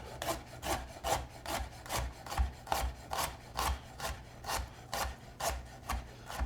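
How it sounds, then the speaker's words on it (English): A knife slices fresh ginger against the grain on a cutting board, producing steady rhythmic strokes roughly every half second, each a crisp scraping rasp, close and alone without talk. "We're just slicing it against the grain. Then we're just gonna rough chop it a little bit."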